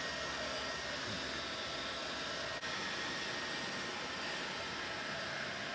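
A heat gun warms a blower belt guard on a supercharged postie bike, giving a steady, even blowing roar that stays constant throughout with no pauses.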